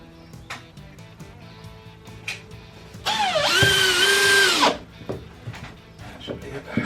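A power drill bores overhead through a wall to run heat pump pipe, a loud whining burst of about a second and a half with shifting pitch, set among quieter knocks and handling noises.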